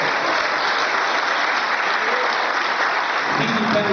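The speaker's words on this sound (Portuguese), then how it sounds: "Dê um aplauso a Ele em nome de Jesus." A church congregation applauding during a Sunday morning service, dense continuous clapping from a large crowd that holds at an even loudness throughout.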